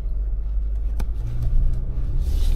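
A 2024 Ford Ranger Wildtrak pickup driving off-road, with a loud steady low engine rumble and road noise from inside the cab and a brief knock partway through.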